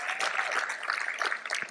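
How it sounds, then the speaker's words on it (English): An audience claps in a steady, dense patter of applause for Bob Hale receiving a lifetime achievement award, sustained and moderately loud throughout. "That's worth a round of applause"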